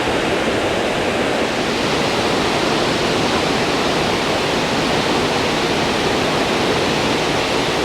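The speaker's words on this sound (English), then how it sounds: "I'm starting to get wet from the spray from the waterfalls themselves." Roaring waterfall spray at a California filming location, a dense, steady broadband rush of falling water close by that stays loud and unchanging throughout, with no voices.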